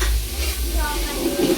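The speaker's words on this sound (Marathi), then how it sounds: "चांगला भाजू द्या, भाजलायची आहे चांगला." Red chilli masala roasting in hot oil in a pan, a steady close sizzle and hiss with faint stirring scrapes, continuous for a moment.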